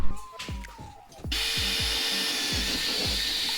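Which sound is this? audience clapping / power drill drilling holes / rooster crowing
power drill drilling holes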